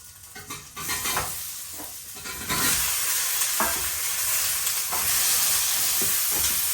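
Potato and pumpkin pieces hit hot oil tempered with cumin, bursting into a loud, close, continuous sizzle and frying hiss with stirring scrapes, growing fuller as the pan heats.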